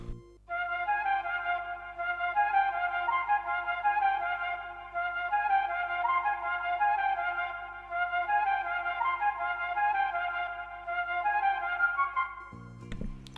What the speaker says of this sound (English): Next up, I added this flute.